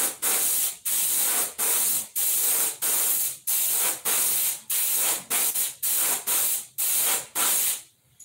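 An Iwata Eclipse airbrush spraying paint in a run of short repeated bursts, each a loud close hiss lasting about half a second with brief gaps between, in a steady rhythm.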